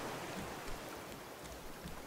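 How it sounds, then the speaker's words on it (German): Steady rain pattering in the survival game Raft, a continuous hiss of drops with a low watery wash underneath, soft and even throughout with no talking. "und es regnet"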